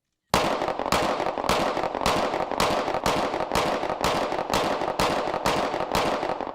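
A standard semi-automatic Glock pistol fires fifteen rounds in a steady, evenly spaced string at an ATF demonstration, each shot sharp and loud, close by, with no talking.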